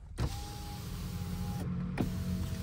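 Power windows on a Mahindra Scorpio N Z8 Select whirring as the glass moves, a steady motor hum running about one and a half seconds, a brief pause, then another stretch of motor whine, close up inside the car with no talking.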